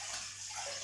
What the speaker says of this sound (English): I'm just going to put a little bit of water into the bowl to make it easier to wash up later